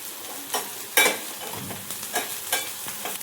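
Farm vegetables stir-fried in oil with salt give a series of sharp spatula scrapes and tosses, about six distinct stirs over a soft sizzle, close and fairly loud.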